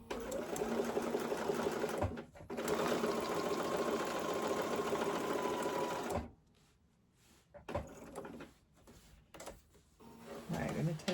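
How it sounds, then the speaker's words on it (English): A sewing machine runs a straight stitch around a fabric patch in fast steady bursts, with brief pauses between runs as the fabric is turned, close and loud. "And then I'm going to sew towards me."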